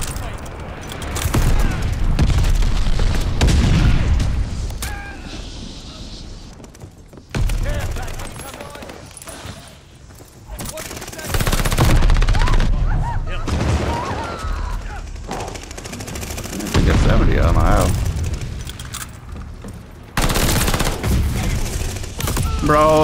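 PPSh submachine gun in Call of Duty: Vanguard on PS5, heard as rapid, dense bursts of automatic fire, loud and repeated through the clip, with brief pauses between volleys and a voice talking over it.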